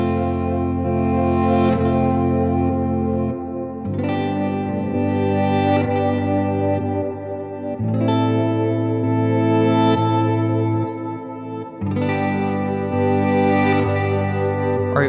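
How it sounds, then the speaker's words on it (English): Sustained ambient electric guitar tones with a reverse delay effect, notes swelling back in and blooming into washes of repeats roughly every two seconds, loud and continuous with no talking. "I'm just going to play a note so that you can hear the reverse delay sort of like working"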